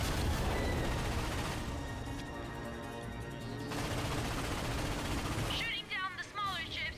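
Cannon fire at warships in the Ratchet and Clank video game from 2016, a dense stream of rapid gunfire bursts and booms over continuous game noise, with a brief break near the end.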